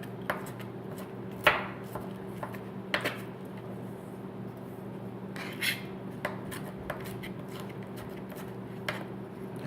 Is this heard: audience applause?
no